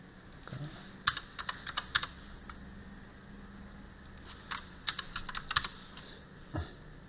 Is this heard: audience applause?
no